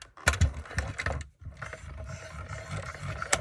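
A hand-cranked die-cutting machine for card making clicks and grinds through its rollers in short ratcheting bursts, fairly quiet and close, with a brief pause before the cranking resumes.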